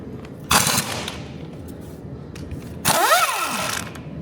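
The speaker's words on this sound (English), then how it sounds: "we're gonna use the hydraulic gun to get rid of all the bores" A hydraulic gun works on a rusty manifold of an R32 GTS-4 in two loud, close bursts of mechanical whirring, one early and one later, separated by quieter background.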